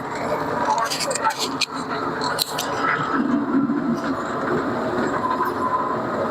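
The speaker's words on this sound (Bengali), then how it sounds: "মানে এই ফার্স্ট এই ট্রেনে উঠা, খুবই ভালো লাগতেছে।" A small amusement toy train ridden at close range, giving a continuous rumble with rattling and clattering from the wheels and cars while a person talks over it.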